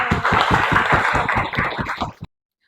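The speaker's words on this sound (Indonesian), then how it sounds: "Oke, tepuk tangan dulu." A classroom of students claps together during a Pancasila civics lesson, a quick, steady run of sharp hand claps lasting about two seconds before stopping abruptly.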